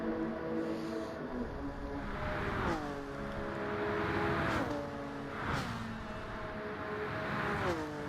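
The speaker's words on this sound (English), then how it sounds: "Love to hear the sound of the cars" Race cars circle a track, engines howling and whining in repeated rising-then-falling passes, each car sweeping by loudly amid a steady engine drone with no talk.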